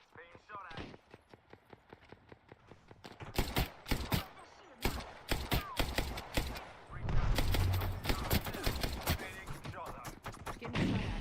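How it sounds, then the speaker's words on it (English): Rapid bursts of gunfire in an Apex Legends match, sharp repeated shots building into dense volleys, loud and close, with a voice talking intermittently over the action. "Getting shot at."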